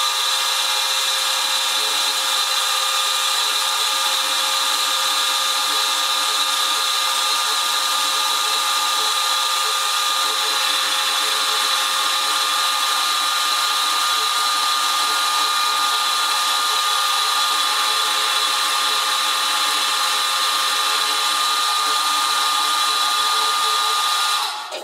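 A small milling machine cutting metal at 370 RPM, a steady high-pitched whine with constant mechanical hum that runs unbroken and loud throughout, with no talking.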